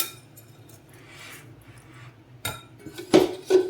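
Appam batter being mixed in a bowl, a few clinks and scrapes of a spoon against the dish, quiet at first and then a couple of sharper knocks near the end.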